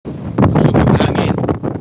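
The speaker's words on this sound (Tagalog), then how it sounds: "kusog ng hangin" Strong typhoon wind gusting hard at Ozamis anchorage among anchored ships, a loud, broad roar with a sudden rise after a brief lull, sustained buffeting and rumble throughout.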